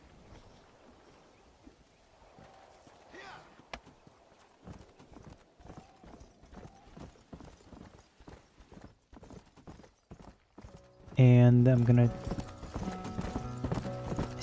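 Rhythmic horse hooves clip-clop along in Red Dead Redemption while the horse is ridden, steady repeated thuds with a brief whinny and faint speech, before a loud music track swells in near the end.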